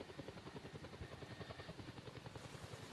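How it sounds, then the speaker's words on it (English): Helicopter in a virtual world video game, a steady close rotor chop with rapid regular blade thumps over a constant engine drone, alone and unbroken throughout. "So there's a helicopter and 2 of them,"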